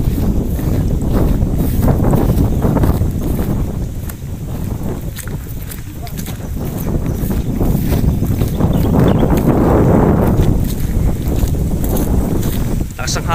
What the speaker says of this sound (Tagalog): Ang hangin, no?